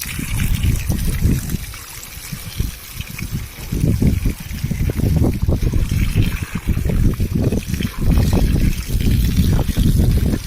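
A hose sprays water onto a new house's roof, giving a continuous close splashing and pattering flow that swells and dips over several seconds while someone talks over it.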